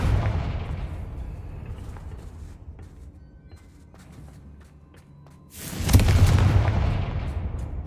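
Hogwarts Legacy's Confringo spell bursts twice: a heavy blast that fades into rumbling debris, then a second sharp, louder boom near the end with a long roaring tail, no speech.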